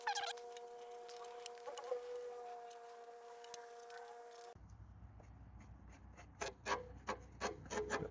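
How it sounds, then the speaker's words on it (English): A Webb WEH12R reel mower's blades are backlapped with grinding paste, first with a steady mechanical whine, then with close, gritty rubbing and rasping scrapes that swell into several louder grinding bursts. "catching and gripping on that grinding paste that I've been putting on."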